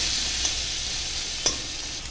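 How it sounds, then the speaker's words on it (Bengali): Potatoes with salt and turmeric sizzle lightly in a pan while stirred, with two soft scraping knocks of a utensil over the steady frying hiss. "অল্প করে হলুদ দিয়ে ভালো নেড়ে চেড়ে হালকাভাবে ভেজে নিচ্ছি"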